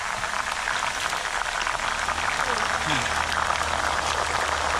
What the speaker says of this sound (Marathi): आता आपण टाकणार आहोत हे जे पाणी आपण बनवलं आहे, मीठ आणि हळदीचं पाणी